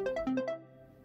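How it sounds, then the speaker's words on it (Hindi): A phone ringtone plays a quick melodic run of electronic tones, then fades out; fairly quiet with no talking. "अनाया की मम्मी का फोन बजने लगता है।"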